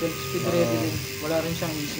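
A Novatec DB402 bicycle hub with 4 pawls and 90 engagement clicks freewheels in a close, steady, fast buzzing whir as someone talks over it.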